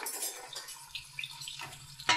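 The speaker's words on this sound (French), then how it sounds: "On va mélanger avec une cuillère en bois." A wooden spoon scrapes and clatters around a pan of gently browning vegetables and black beans, with soft intermittent scraping over a quiet sizzle, ending in a sharper knock.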